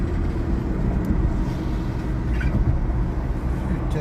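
A car drives by with a steady, loud low rumble of road and engine noise that holds fairly even throughout, with no voices.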